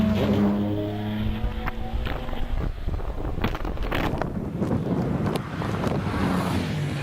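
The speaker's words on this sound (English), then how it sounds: "Hayden Spedding now in the big E-Type into and out of Farmhouse Bend" A big Jaguar E-Type at a British Championship hillclimb at Harewood sweeps through Farmhouse Bend, its engine note steady under heavy wind buffeting at the microphone, heard from the trackside.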